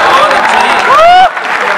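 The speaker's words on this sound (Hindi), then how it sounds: "जरा जोरदार कानपुरी या ताली बजा दो" An audience at a poetry recital at a college festival claps loudly in a dense burst of applause that cuts off abruptly, with a voice talking over it.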